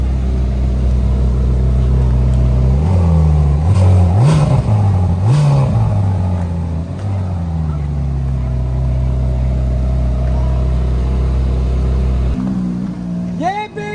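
A loud Ferrari or Lamborghini engine in Monaco roars and revs repeatedly, pitch climbing and falling in several surges before settling into a steady idle, then cutting off.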